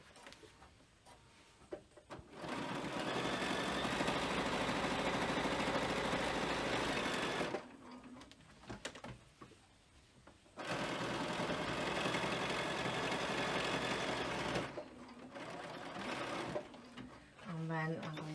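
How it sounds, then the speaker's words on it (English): An electric sewing machine stitches across the fabric of a frame bag in two long steady runs of rapid close whirring, with brief pauses between them where a voice speaks softly. "I'm going to stitch across this piece"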